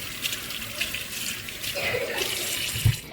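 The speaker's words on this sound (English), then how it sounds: "first thing we're gonna wash poha." Running water pours from a kitchen tap as flattened rice (poha) is rinsed under it, a steady close splashing flow with small clinks near the end.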